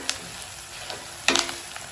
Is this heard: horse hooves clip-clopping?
no